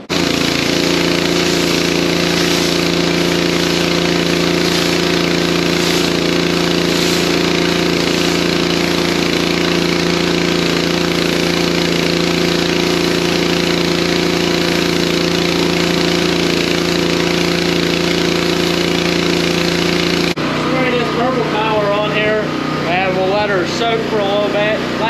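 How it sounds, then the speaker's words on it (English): Gas-engine pressure washer running close by, a loud steady droning hum with a constant tonal buzz for about twenty seconds before it cuts out abruptly, a voice then speaking over quieter background. "gotta get the pressure washer going here, and we'll get this thing cleaned up"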